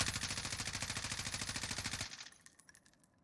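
An M4 rifle in the video game Warzone fires a rapid, sustained automatic burst of loud, evenly spaced shots for about two seconds, then stops and leaves a brief fading tail and faint clicks.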